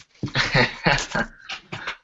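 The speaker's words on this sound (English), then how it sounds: "Sorry, pardon for the dog." Dog whimpering indoors, a series of high, nasal whines and yips in short bursts of varying pitch, close and fairly loud with brief pauses between cries.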